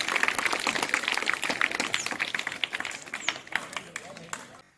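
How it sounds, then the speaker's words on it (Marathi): A group claps in a burst of scattered, rapid hand claps that gradually thin out and fade toward the end, with no one speaking. "टाळ्या वाजवा सगळे."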